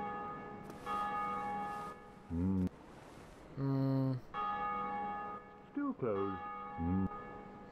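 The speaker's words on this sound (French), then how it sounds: "Les cloches arrêtent pas de retentir" Church bells toll in a Dark Souls Remastered game scene, sustained ringing tones heard steadily throughout, with someone speaking briefly over them.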